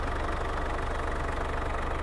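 A modified motorcycle engine idles steadily with a low, even throb and a close, constant mechanical hum, with no talk.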